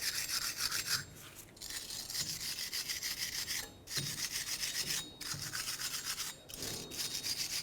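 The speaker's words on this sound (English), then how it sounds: "clean up the mating surface on the end of your axle here" Someone cleans the mating surface on the end of a Nissan Titan axle by hand, making a repeated scratchy rubbing rasp in short strokes with brief pauses, close and alone.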